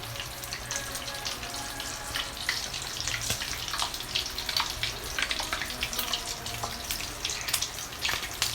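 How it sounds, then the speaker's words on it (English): Salmon cakes fry in a pot of foaming canola oil, giving a steady, dense crackling sizzle that holds constant throughout, close by with no talk. "The oil is foaming at this point, right?"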